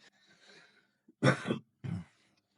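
Two loud, close coughs in quick succession after a quiet stretch, the first stronger and longer than the second.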